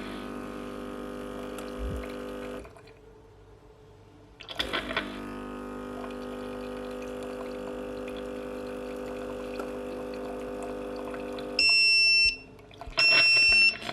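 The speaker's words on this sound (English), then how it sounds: "So what it does is it puts some shots of hot water into the formula" A baby formula machine runs with a steady humming pump while dispensing shots of hot water, pausing briefly, then resuming before a few sharp electronic beeps sound near the end.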